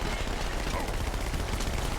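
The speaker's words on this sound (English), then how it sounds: "A lot of little bullets." A relentless hail of small-calibre gunfire in Halo, many little bullets spraying in a dense, unbroken rattle, loud and close for the full two seconds.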